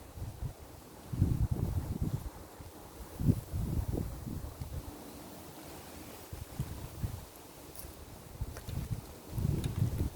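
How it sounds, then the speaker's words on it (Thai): Strong wind buffets an outdoor scene where papaya is being chopped, gusting in low rumbling surges across the whole stretch, loudest near the start and end. "ลมแรงมากเลยค่ะพี่น้องคะ"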